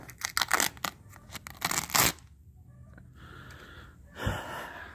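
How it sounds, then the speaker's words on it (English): Failed POR15 paint coating being peeled off a surface in sheets, giving close, loud crackling tears in quick bursts during the first two seconds, then quieter crinkling and a faint rustle near the end. "it's just coming off in sheets. Sorry, it's hard to peel and video at the same time"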